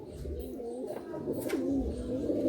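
Pigeons of Malwai and Madrasi breeds, including a breeding pair on eggs, coo repeatedly in a full loft in Budge Budge, South 24 Parganas, their low throaty calls close and steady over a continuous murmur.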